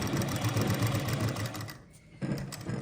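Sewing machine stitching a round neckline on a suit, running in a steady close whir that stops briefly as the presser foot is lifted, then starts again.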